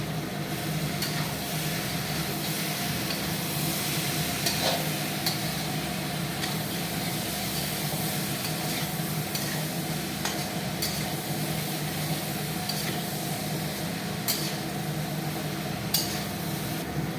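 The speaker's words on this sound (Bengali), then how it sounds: "সেই আলুটাকে এখন মটরশুঁটির সাথে মিক্স করে দেওয়া হবে।" Fried potatoes stirred together with peas in a pan, a steady low sizzle with faint, repeated scraping and clinks of a spoon against metal running throughout.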